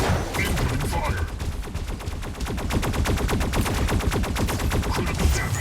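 Rapid, dense gunfire from the mech combat video game Mech Arena, a steady stream of loud shots with machine-gun rhythm filling the whole stretch, with game voice callouts mixed in.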